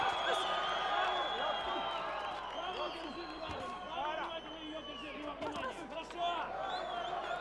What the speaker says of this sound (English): you hear the crowd, ladies and gentlemen